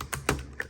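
A few keystrokes on the butterfly keyboard of an early 2016 MacBook, three distinct taps spread unevenly over a moment, close and moderately loud with no voices.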